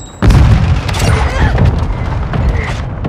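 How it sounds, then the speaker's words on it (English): A mortar strike explodes in the Modern Warfare II video game: a sudden loud, deep boom erupts after a brief quiet moment, followed by a sustained rumbling roar with scattered crackling debris. "Mortar strike inbound."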